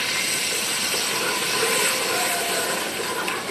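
Ground masala frying in about half a cup of hot oil with ginger-garlic paste for beef nalli nihari, a steady loud broadband sizzle that holds evenly throughout without talk.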